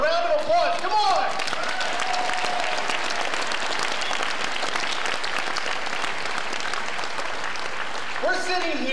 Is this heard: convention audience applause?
yes